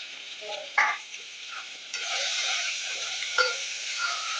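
Tomato with ginger-garlic paste sizzles steadily in a hot pan, with scraping spoon strokes stirring it through, close and fairly quiet.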